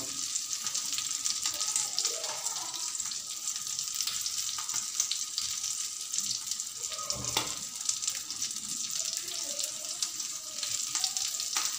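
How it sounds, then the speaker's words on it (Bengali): Pieces of pona fish frying in hot oil in a pan, a steady loud broadband sizzle that continues without a break, with faint scrapes underneath. "আমি এবারে মাছগুলো দিয়ে দেবো"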